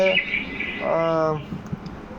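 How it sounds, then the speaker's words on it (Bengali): A bird calls near paddy being sun-dried, a brief harmonic cry rising out of steady outdoor background, with a few fainter chirps after it. "সবাই একটা পাখি এসেছে"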